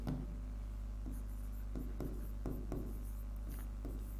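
Writing on a board during a Class 12 physics lesson: a series of short scratchy strokes and taps at a steady pace, over a constant low electrical hum, with no speech.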